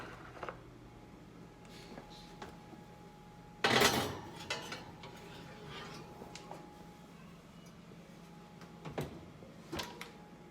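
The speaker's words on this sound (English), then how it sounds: "you're gonna wanna put this here sucker in the oven" A dish is slid into a hot oven with one loud clattering, scraping knock of metal on the rack, then quieter clinks and a few soft taps in an otherwise quiet kitchen.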